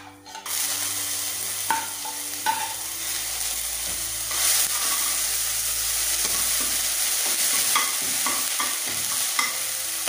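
Onion paste sizzles loudly in hot oil in a pan for a Bengali tamarind chutney, with steady frying hiss and several scraping stirs of a spoon throughout, no voices.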